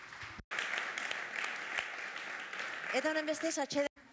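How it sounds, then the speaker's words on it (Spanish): A conference audience gives a big round of applause, dense steady clapping at moderate level that ends abruptly, with a voice speaking near the end. "Un gran aplauso"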